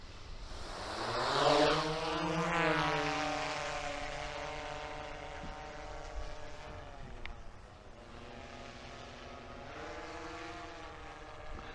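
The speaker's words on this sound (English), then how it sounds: "So do we want to go ahead and fire the drone up, Grace?" A fire district's Darley drone spins up and lifts off, its propellers building to a loud, rising whir that peaks early, then settles into a steady buzzing hover.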